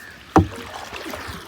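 A small rowing boat on a tidal creek gives one sharp wooden knock and splash early on, followed by faint, quiet lapping water with no talk.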